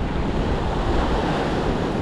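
Loud, roaring ocean surf at a rock fishing spot in Avoca, with heavy wind buffeting the microphone, a dense continuous wash of crashing waves in dangerous seas.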